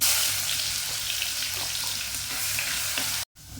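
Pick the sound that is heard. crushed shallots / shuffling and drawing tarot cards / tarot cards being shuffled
crushed shallots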